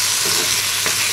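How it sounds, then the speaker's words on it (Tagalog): Garlic, onion, tomato and potato sautéing in a pan give a steady, close frying hiss with faint stirring scrapes and one brief louder stir near the end, with no voices. "Nagisa na ako ng bawang, sibuyas, kamatis, at nilagyan ko ng"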